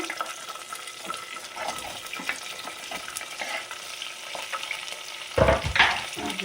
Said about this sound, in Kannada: ಈಗ ಈರುಳ್ಳಿ ಮೆಣಸಿನ್ಕಾಯಿ ಹಾಕೋಣ.